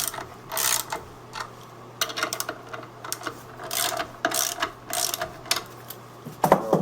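Ratchet tightening clutch bolts on a 1977 BMW R100RS: close, loud bursts of rapid clicking that start and stop repeatedly, with short pauses between strokes.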